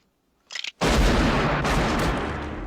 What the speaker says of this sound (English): Two shots rang out.